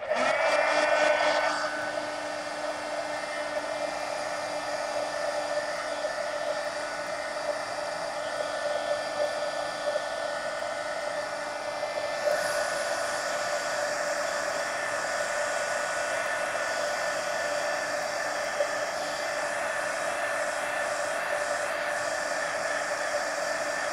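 A hair dryer blows on watercolor washes in an adult coloring book, giving a loud, steady close whir that runs throughout, with its pitch shifting slightly partway through.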